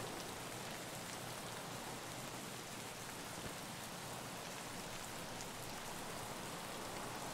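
Heavy, steady rain in the video game Escape from Tarkov on the Woods map. A dense, unbroken hiss of downpour holds at a constant level, with no voices or other sounds over it.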